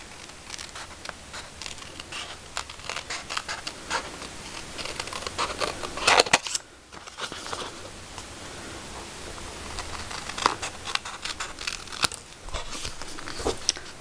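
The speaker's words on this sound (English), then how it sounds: "I'm going to grab a pair of scissors" Scissors snip and slice through paper in a long, continuous stretch of crisp cutting, close by, with a brief pause midway.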